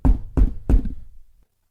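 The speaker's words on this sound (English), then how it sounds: "and there was a knock at the door" Three firm knocks on a wooden door, evenly spaced and close, with a short ring-out after the last one and then silence.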